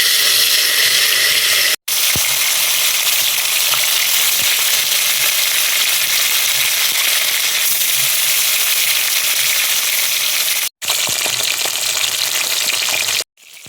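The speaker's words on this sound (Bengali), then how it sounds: "তেল গরম হয়ে গেছে এবার মাছটা আস্তে আস্তে দিয়ে নিচ্ছি" Katla fish fries in hot oil in a wok, giving a loud, steady, close sizzle that hisses without letup. It breaks only for a couple of brief cuts.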